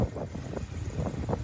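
26-foot hardtop boat with a Chrysler 340 engine running at high RPM on a sea trial, a loud pulsing motor rumble mixed with wind buffeting the microphone, continuous with no talk.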